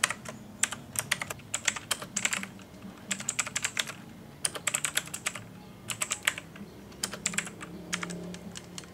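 Rapid typing on a computer keyboard while entering a MySQL command, crisp close key clicks in quick bursts separated by short pauses, with no one speaking.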